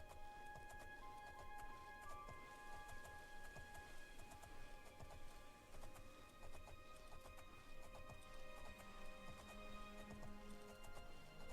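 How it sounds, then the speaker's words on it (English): A horse's hooves gallop steadily in the video game Oblivion, a quiet continuous clopping under a game soundscape with tonal music, no speech. "The horse immediately wants to run for some reason."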